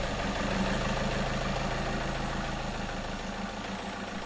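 A SEAT Ateca 2.0 TDI diesel engine idles steadily after starting, giving a quiet, even, throbbing rumble with a regular low pulse and no talk over it.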